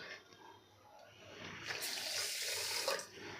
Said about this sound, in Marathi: पाणी घालायचं आहे